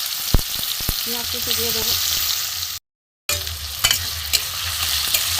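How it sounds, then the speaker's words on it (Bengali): Chopped onions frying and being stirred in hot oil for a chicken hot dog recipe, a steady close sizzle with scraping stir strokes, a short gap midway, and a brief spoken phrase near the start. "পেঁয়াজটা একটু ভালো করে ভেজে নেবো।"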